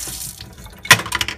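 Water poured from a tap into a small Munchkin baby bottle warmer, a brief splashing gush that rises suddenly near the end of the short clip, close and without talking.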